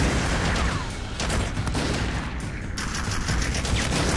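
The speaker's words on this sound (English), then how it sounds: "Okay, pretty heavy fire" Heavy gunfire in the video game Haze, with dense overlapping bursts and booms that keep up loud and continuous throughout.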